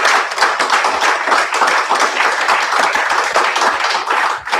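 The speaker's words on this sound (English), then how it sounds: "Why don't we give these 3 candidates a great big round of applause?" A forum crowd gives a round of applause for three Iowa House 48 Democratic candidates, dense clapping close to the microphone that holds at a steady level for a few seconds.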